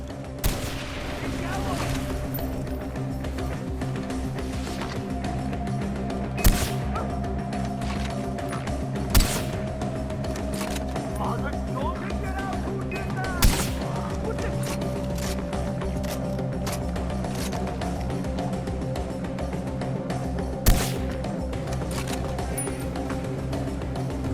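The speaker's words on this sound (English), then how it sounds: "The explosion didn't really do very much other than create a load of noise, to be fair." Far Cry 4 gameplay: a few sharp gunshots ring out at spaced intervals over a constant dense bed of game noise and mechanical rumble.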